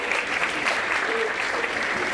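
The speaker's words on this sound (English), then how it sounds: "Speaking of talents, let us applaud once again Artistic Director Bruce Bailey." A burst of dense applause from a concert band audience, many hands clapping steadily throughout.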